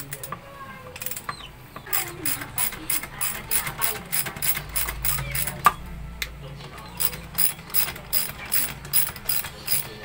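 A ratchet wrench loosens a nut on a Honda Click scooter during rear brake work, giving quick bursts of crisp pawl clicks in rhythmic strokes, close and fairly quiet, with short pauses between runs.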